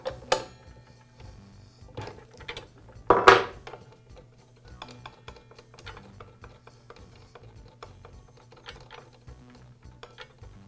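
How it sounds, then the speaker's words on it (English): A wrench loosening the blade on a DeWALT miter saw: scattered metallic clicks and ratcheting ticks close by, with one louder clank partway through, all quiet and without talk. "Now use the wrench that came with the saw to remove the blade"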